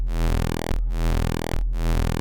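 A buzzy Serum 2 wavetable synthesizer tone repeatedly sweeps through shifting timbres with smooth interpolation, morphing smoothly, in three loud cycles with brief gaps between them.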